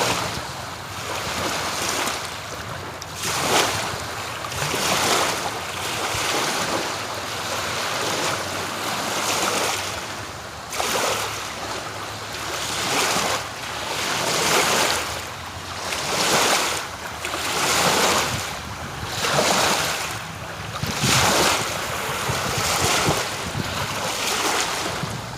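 Ocean waves wash onto a rocky shore at sunset, rolling surges rising and falling in a steady rhythm with wind buffeting the microphone and no talk.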